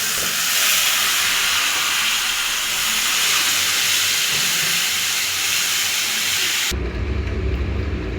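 Tomatoes go into a pan of frying onions with turmeric, giving a loud, steady sizzling hiss that cuts off abruptly near the end.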